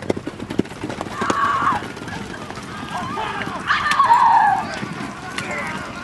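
Horse hooves clip-clop at an uneven pace alongside a couple of whinnies, with background voices and outdoor ambience throughout.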